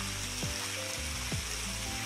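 Chicken and browned onions fry in a pan with a soft, steady sizzle, low and close, with a couple of faint scraping stirs and no talk.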